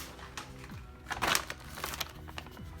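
A plastic bag is grabbed and handled close by, giving quiet, scattered crinkles and crackles with a sharper rustling burst in the middle.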